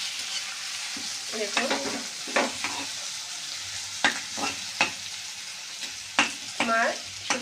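Dried shrimp frying in oil with onion and garlic, a steady sizzle broken by stirring scrapes, and a brief spoken word over it.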